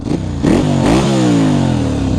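A Ducati Monster 696 motorcycle with twin exhausts revs up loud and close, its engine note climbing and falling in a few quick throttle blips before holding a steady, sustained roar.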